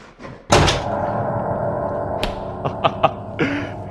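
A door is opened with a loud, close thud and clunk, followed by rustling movement and a few sharp knocks and clicks, with no talking.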